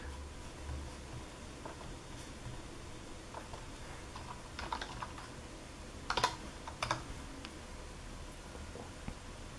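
Quiet typing on a wireless keyboard connected to a GPD Win handheld Windows PC, with irregular soft key taps that briefly bunch into quicker bursts near the end.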